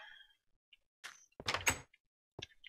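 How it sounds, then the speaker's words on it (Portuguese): A door in Minecraft is placed and shut with a couple of sharp wooden clacks among short blips of in-game sound, loud and close against near silence. "Fecha a porta."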